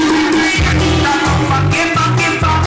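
A five-way car sound system with a tornado loudspeaker plays music loud and close, heavy rhythmic bass pulses repeating about every second and a half beneath steady midrange tones, with no talk.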